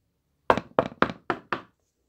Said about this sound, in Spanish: tocó la puerta de la primera